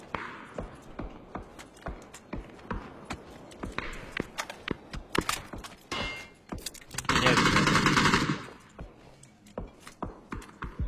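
AK assault rifle fire in a shooter video game, loud sharp shots in scattered single bursts and one sustained roaring stretch of rapid fire, mixed with footsteps.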